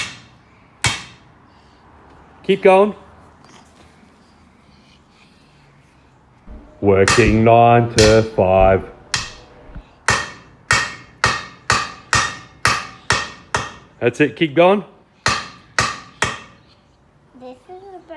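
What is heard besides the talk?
hammer banging part onto Hemi 265 engine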